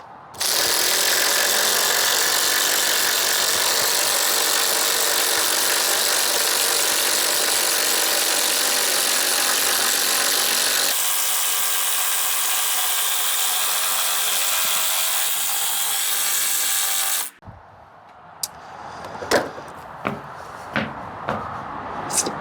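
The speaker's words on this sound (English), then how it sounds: "Okay, so for this part, we're gonna run in these 2. They're pretty skinny lag bolts" Two skinny lag bolts driven straight down into wood by a drill and an impact driver running side by side, a loud sustained whirring and rattling drone that steps down midway, then stops, followed by a few sharp knocks and clicks.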